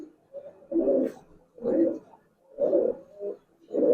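Giribaz pigeons coo in a loft, several rounded, throaty calls repeating in a steady rhythm, close and fairly loud, with no talk over them.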